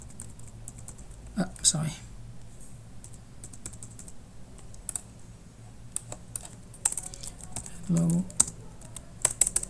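Typing on a computer keyboard, scattered key clicks at close range with a short burst near the start and a denser run later, while a person speaks a couple of brief words.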